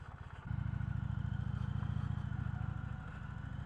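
An Indian Challenger motorcycle riding in second gear on light throttle, its engine swelling from a soft idle into a loud, close, steady throbbing pulse that eases slightly near the end.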